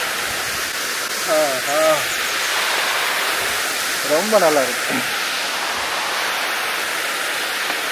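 A waterfall at Kookal near Kodaikanal gives a steady, full roar of rushing water that fills the whole clip, while a voice speaks briefly over it twice.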